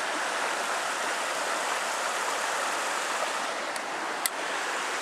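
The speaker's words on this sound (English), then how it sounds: "This is McCumber Brook here." Steady broadband rush of McCumber Brook flowing at the base of a gorge, a continuous near water roar with no talk and a couple of faint clicks near the end.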